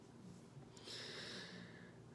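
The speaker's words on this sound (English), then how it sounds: "I hate to blow my nose on camera." A single short, soft nose blow near the microphone, a brief breathy honk lasting about a second in a quiet room.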